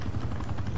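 A helicopter in the video game Call of Duty Cold War gives a steady, close whirring rotor chop that fills the brief moment with no talk over it.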